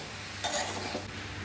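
Eggplant thoran stirred in a pan, a brief scrape and clink of a spoon against the pan over a soft, low background sizzle.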